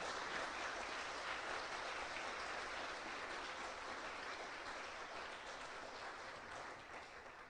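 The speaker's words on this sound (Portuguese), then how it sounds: "Aplauda o Senhor por essa verdade" Church congregation applause after a sermon line, a dense, diffuse wash of clapping that sounds distant and quiet, holding steady for several seconds before tapering slightly at the end, with no talking.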